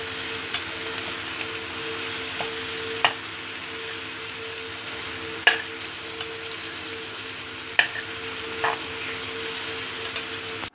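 Beans and coconut being stirred in a frying pan, a soft continuous sizzle with occasional sharp clicks of the spoon against the pan, fairly quiet and close, no talk.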